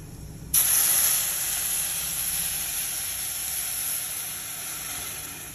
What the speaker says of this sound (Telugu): ఇప్పుడు దీంట్లో నేను పాలు పోస్తున్నాను.